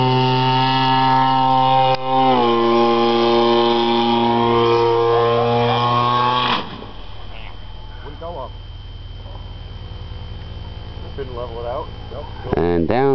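Buzzing model triplane engine whines loudly and steadily, drops in pitch as the throttle eases toward idle, then keeps running lower with brief revving warbles before a final surge, with people talking over it.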